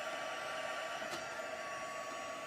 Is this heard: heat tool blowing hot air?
yes